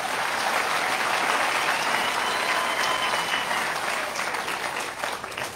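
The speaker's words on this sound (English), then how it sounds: "Let's give them a round of applause." Sustained applause from a large audience at a mining announcement event in Mokopane, South Africa, steady and dense throughout with no voices over it.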